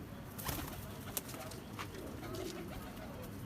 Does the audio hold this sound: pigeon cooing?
yes